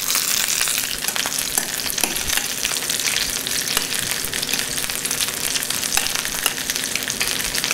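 Yam fritters pan-fry in a generous bath of hot oil, giving a steady, dense sizzle and crackle that stays loud and even throughout, with no talking.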